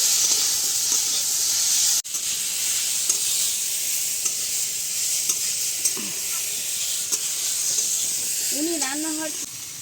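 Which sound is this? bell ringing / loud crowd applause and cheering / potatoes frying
potatoes frying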